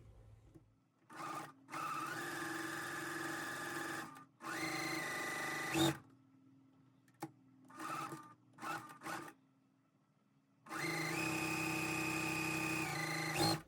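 A sewing machine stitches a quarter-inch seam on a quilt block, running in several sustained whirring bursts of a few seconds each, broken by pauses and a few short stutters of stitching, close and alone.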